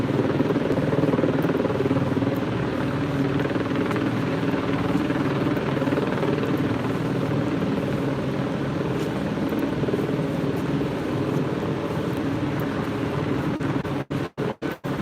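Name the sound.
helicopter flying overhead in Los Angeles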